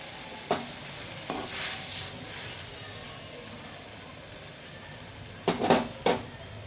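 Water is poured into a pan of fried vegetables for milk shukto, raising a brief hissing sizzle, followed by quieter bubbling and a few sharp clinks of a spoon stirring against the pan.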